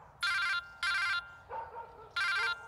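An old-style telephone bell rings in three loud bursts, each about half a second long, separated by pauses, with a dog whimpering softly between rings.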